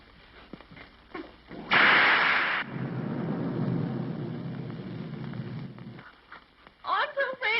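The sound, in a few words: thunder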